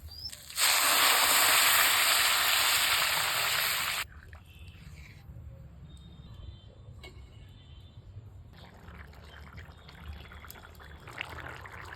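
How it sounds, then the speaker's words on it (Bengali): Hot water poured into a pan of fish heads fried for khichuri gives a loud, steady sizzling hiss for about three seconds, then drops away to quiet kitchen background. "এখনই গরম জল দেব"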